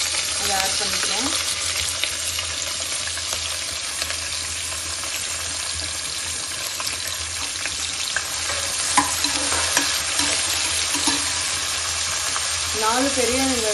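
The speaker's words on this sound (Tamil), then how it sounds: "நாலு பெரிய வெங்காயத்தை ஆட் பண்ணியிருக்கேன்." Four large chopped onions fry in a pot for chicken biryani, sizzling steadily with occasional stirring scrapes while someone talks over the cooking now and then.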